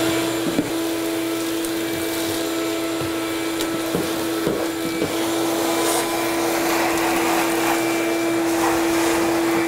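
A vacuum cleaner runs steadily and loudly throughout as it sucks up debris from a grooved floor during a budget bathroom remodel, with a constant motor whine and occasional knocks and rattles of material being pulled in.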